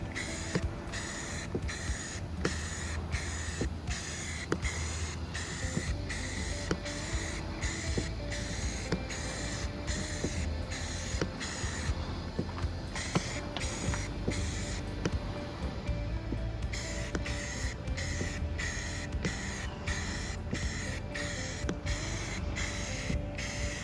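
Short, regular bursts of hissing spray paint are applied to a Meade Lightbridge telescope, repeating in a steady rhythm with brief gaps between, over a faint background hum.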